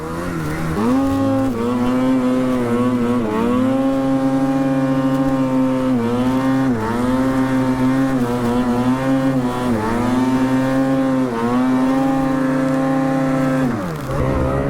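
Snowmobile with a worn, soggy drive belt revving through wet spring snow in the backcountry, a loud engine that repeatedly climbs and drops in pitch in rhythmic surges, close and continuous with no speech.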